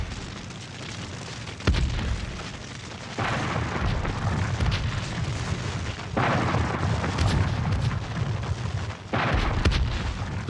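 Deep booming bursts of Confederate artillery fire from forts along a river, rolling and continuous with heavy low rumble and several sharp onsets, loud and dense with no voices.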